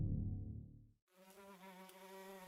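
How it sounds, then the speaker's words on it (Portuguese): Housefly buzzing in a horror setting, a steady close insect drone with a shifting pitch that starts after a moment of quiet and holds to the end. "uma entidade que se manifesta como uma aparente e inofensiva mosca doméstica"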